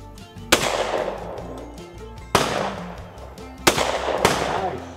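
Three loud shotgun blasts at a sporting clays range in McLoud, Oklahoma, spaced roughly two seconds apart outdoors, each a sharp crack with a short decaying tail over faint background murmur.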